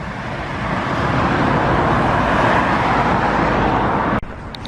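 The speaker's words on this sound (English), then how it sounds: "But there's plenty of cars about." Road traffic on a country lane passes close by during a group walk near Bolton-le-Sands, a steady broad rumble of car engines and tyres that holds loud throughout and then cuts off sharply near the end.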